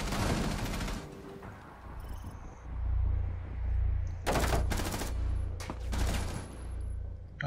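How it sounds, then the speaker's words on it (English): Rapid bursts of automatic gunfire from a Rainbow Six Siege match on PS4, loud and close, several sharp volleys over a low droning rumble with no talk. "All I heard was gunshots"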